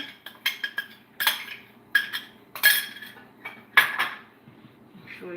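Metal spoon clinking and scraping against a pot while stirring thick Jamaican cornmeal porridge, a series of sharp irregular knocks and clatters up close, with no talk.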